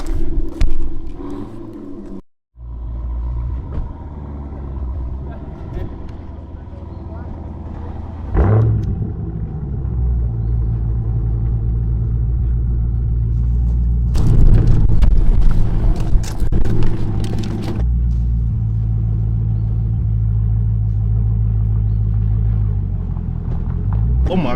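A Dodge Hellcat Durango and a 392 Scat Pack rumble loudly during a street race, a deep sustained engine roar that swells midway, with excited voices over it.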